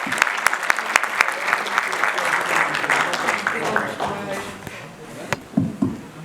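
An audience at a certificate ceremony applauds as the Başakşehir mayor is welcomed to the stage, sharp claps rising into steady clapping that thins out near the end under a voice.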